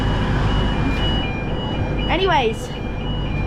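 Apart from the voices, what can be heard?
fire alarm going off in a train station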